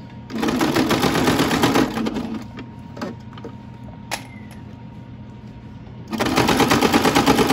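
A sewing machine with a walking foot stitches a quarter-inch seam on a lined fleece beanie, running in loud close bursts at the start and end with a quieter pause and a few clicks between.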